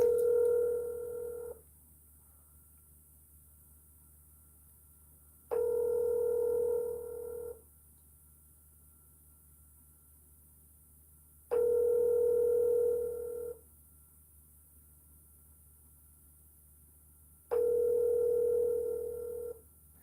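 An outgoing phone call rings out, four evenly spaced ringback tones each lasting about two seconds with long silent gaps between, clear and steady, no talk.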